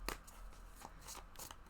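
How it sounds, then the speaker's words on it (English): Close, crisp riffling and soft slaps of a deck of tarot cards being shuffled, in quick bursts with no talking. "I'm going to try shuffling over here so I don't drop them on the floor."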